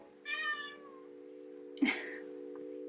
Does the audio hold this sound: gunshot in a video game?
no